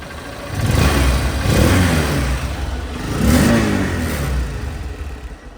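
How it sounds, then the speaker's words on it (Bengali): A Honda CB Trigger motorcycle engine runs close by, rising twice in smooth revs before settling back to a steady idle; no one speaks. "গাড়িটা রানিং অবস্থা আছে দেখেন"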